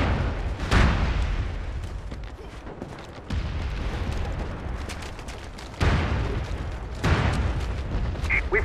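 Incoming artillery shells explode in the video game MAG, four heavy booms landing a few seconds apart over a dense, rumbling battlefield din.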